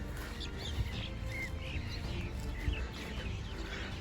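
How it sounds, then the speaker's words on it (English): Small birds chirp faintly in a farm paddock near calf sheds, with scattered short tweets over a steady outdoor background. "All the birds."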